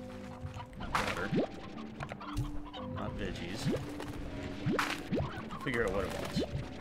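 Hens cluck in the Slime Rancher video game, a busy overlapping flock of short clucks mixed with game music and effects, while a person talks over it.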